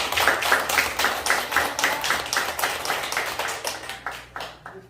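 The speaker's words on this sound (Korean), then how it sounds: "박수 한번" A room full of people gives a round of clapping at an education presentation, loud and dense with fast overlapping claps that run steadily and then thin slightly toward the end, with no talk over it.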